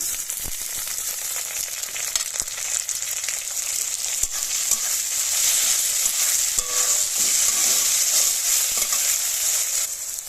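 Tomato going into browned onions in a pan for a vegetarian fig curry, then stirred: a loud continuous frying hiss with occasional clicks and scrapes of the spoon, no voices.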